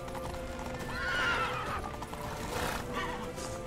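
A horse in The Witcher 3 gives a loud, wavering neigh, followed by a second whinny, over a steady patter of galloping hooves.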